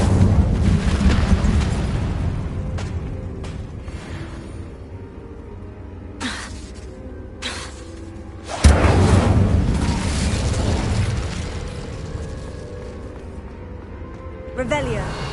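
Incendio fire spell cast in Hogwarts Legacy, heard as several sharp whooshing bursts, the loudest a heavy boom midway, over a steady bed of game ambience and music.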